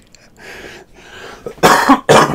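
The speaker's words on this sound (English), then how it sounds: "There's going to be so many coughs in my lifetime." A person coughs twice in quick succession, close and loud, after a quieter stretch of breathy throat sounds, with no talking.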